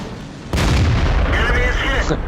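A loud tank cannon shot booms out in the World of Tanks game, a sudden heavy blast followed by a rumbling decay and mechanical game sounds, with a voice commentating.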